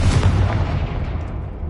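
Confringo explosive spell fired in the Hogwarts Legacy video game: loud booming blasts that burst at the start and rumble away over a second and a half, with no voices.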